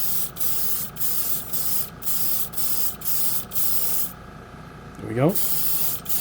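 An aerosol can lays silver gray satin paint over a white base in short, regular hissing bursts with brief pauses between them. A voice speaks near the end, over a faint scraping squeak.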